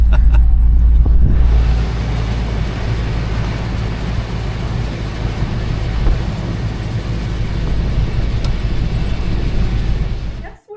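Car driving along a rough desert road, a loud continuous rumble of engine and tyres with road noise that rises after a brief start, close up and steady for the whole stretch, with no voices.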